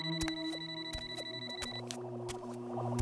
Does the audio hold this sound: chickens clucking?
no